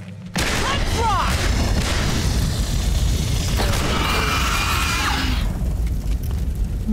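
Gunfire from the video game Aliens: Dark Descent, a dense, continuous roar of rapid shots and booms with mechanical clatter, loud and sustained after a sudden start, with bits of game voice mixed in.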